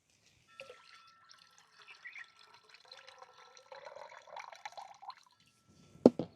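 Homemade butter is washed in water by hand, with soft sloshing, dripping and splashing sounds, faint and intermittent, ending in a sharper splash near the close.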